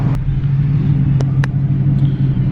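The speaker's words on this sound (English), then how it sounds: "this exhaust is extremely obnoxious" A 700-horsepower 2018 Ford Mustang GT idles in bumper-to-bumper traffic, its exhaust giving a steady, loud, low rumble with a deep droning tone throughout. A few faint clicks are audible over it.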